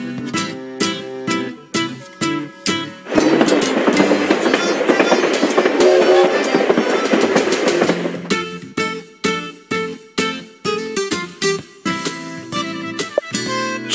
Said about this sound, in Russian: Под веселый стук колес пассажиров он повез.